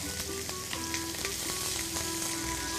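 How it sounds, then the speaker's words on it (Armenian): Asparagus and onion frying in a hot pan, a steady close sizzle with crackles and small pops running throughout, no talk. "մի քիչ տապակենք նաև ծնեբեկը, սոխը նույնպես լավ տեսք է ընդունե"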